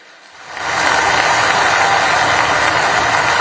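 Loud, dense applause from a large crowd at a tribal community gathering in Jhabua welcoming Prime Minister Modi, swelling within half a second and holding steady to the end.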